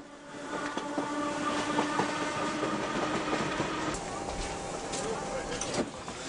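An East Berlin Deutsche Reichsbahn S-Bahn train runs through West Berlin, its wheels and cars rumbling and clattering at close range with a steady rolling drone across the whole stretch.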